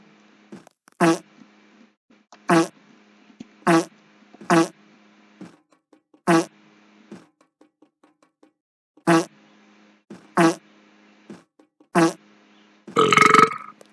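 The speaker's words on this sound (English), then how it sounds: "Why do I fart every time I jump?" Cartoonish fart sound effect triggered by jumping in the Roblox game Escape The Petshop Obby, about ten short, loud blasts repeating at irregular intervals, followed by a brief louder rustle at the end.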